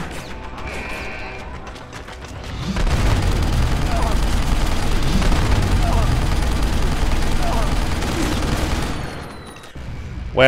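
Sustained gunfire from a firefight in the PC game Deus Ex: Human Revolution Director's Cut, with dense, loud bursts of shots filling most of the stretch before cutting off near the end.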